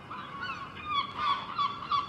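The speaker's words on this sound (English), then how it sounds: "Sorry about the noise, quite a few seagulls out this morning." Seagulls call outdoors in the morning, a run of nasal, honking cries repeating close together and fairly clear against quiet surroundings, with no talk.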